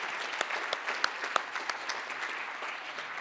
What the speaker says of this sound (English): give a big round of applause to Stan Holmes